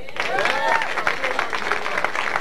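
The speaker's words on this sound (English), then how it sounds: "Clap for that." A comedy-club audience claps for a comedian in a short burst of dense applause, with a voice calling out over the clapping.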